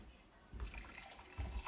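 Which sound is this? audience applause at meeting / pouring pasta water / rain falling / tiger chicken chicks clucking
pouring pasta water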